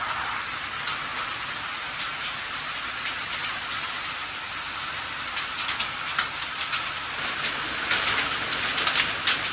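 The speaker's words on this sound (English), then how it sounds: "Hail! I see hail." Hail mixed with rain drumming on a trail shelter during an Appalachian Trail thru-hike, a dense steady patter with sharper scattered impacts that grow heavier toward the end, with no voices.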